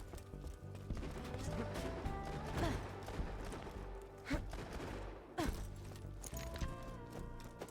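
Dense gunfire from a Borderlands 2 firefight rattles over a busy game soundtrack, with sharp shot clusters breaking through around the middle and near the end.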